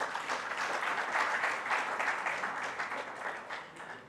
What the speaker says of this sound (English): So they deserve a round of applause.